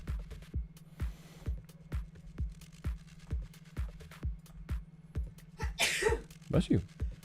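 One person sneezes loudly and up close, then sneezes again a moment later. A steady train of soft rhythmic clicks runs underneath throughout.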